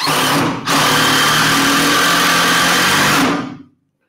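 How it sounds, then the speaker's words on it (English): A power drill drives a lag screw into wood, whirring loudly and up close, briefly stopping then running steadily for about three seconds before winding down to silence. "Definitely not a bolt, but like a lag screw that will drill through and fasten itself without the use of a nut."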